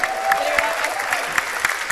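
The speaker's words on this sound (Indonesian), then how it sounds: "Berikan tepuk tangan yang paling meriah" An audience applauds at a concert, a dense wash of clapping from a crowd, loud and continuous.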